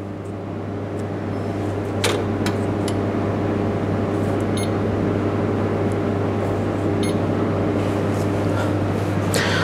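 Restaurant oven running as it heats up, a steady low mechanical hum with a constant drone, joined by a few sharp clicks and knocks from the kitchen, fairly loud and close.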